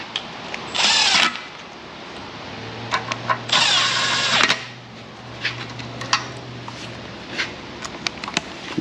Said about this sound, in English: I'll grab the little impact, run all these guys down real quick